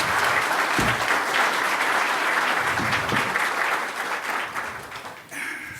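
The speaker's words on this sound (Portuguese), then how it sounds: "Aplausos." Applause from an audience at a state legislative committee session on school infrastructure, a steady, dense wash of many hands clapping that fills the room, tapering slightly near the end.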